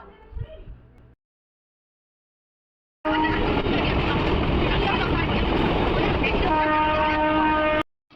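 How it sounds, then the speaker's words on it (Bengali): A train pulling out and running on an Indian suburban line, heard from aboard: after a brief quiet gap a loud, steady rumble of wheels and carriage noise sets in, with faint tonal hums, continuing until an abrupt stop. "ট্রেনে আমরা উঠে পড়েছি, ট্রেন ছেড়ে দিয়েছে।"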